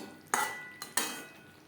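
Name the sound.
stirring vegetables with fried spices in a pan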